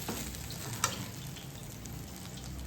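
Cooked rice frying with black cumin, tomato, coriander leaves and salt, a steady low sizzle with a single sharp scrape of the spoon early on, heard alone without talk.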